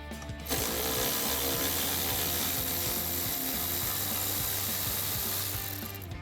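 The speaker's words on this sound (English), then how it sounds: "we're going to remove this 8mm bolt here with the ground strap" Ratchet loosening an 8mm bolt holding a ground strap on a 2018-2023 Mustang GT: a rapid, continuous clicking of the pawl, loud and up close, running steadily for several seconds with no talking.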